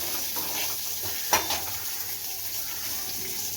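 Green chilli and ginger sautéing in a pan for capsicum chutney, a steady close sizzle with a single sharp clink of a utensil partway through.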